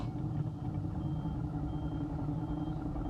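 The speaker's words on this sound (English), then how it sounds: "My little indicator beep is working." A faint, regular electronic turn-indicator beep repeats steadily over the low rumble of a car engine running inside the vehicle.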